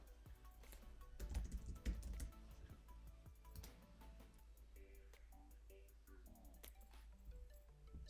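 Someone types an email address on a computer keyboard, soft rapid key clicks at a steady irregular rhythm, fairly quiet and close, with no talking.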